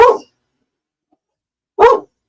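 A pet dog barks twice indoors, each bark short, loud and close, separated by more than a second of silence.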